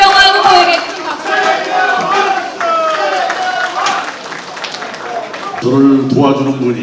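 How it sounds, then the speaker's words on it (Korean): Applause from a party-convention audience for a candidate, a dense wash of clapping and crowd noise over amplified hall sound throughout. "최경환 후보에게 큰 박수."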